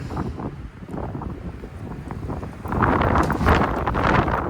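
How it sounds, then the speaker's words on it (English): Gusty wind buffets the microphone outdoors beside a 2001 Dodge Ram 1500 pickup, with a rough, rumbling roar that grows louder and steadier partway through. "It's a little windy today."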